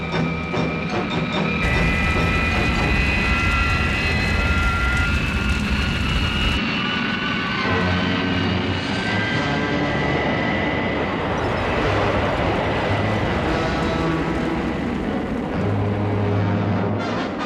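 Thunderbird 2 aircraft engines roaring during a steep dive, a loud continuous jet-like drone with shifting whine throughout.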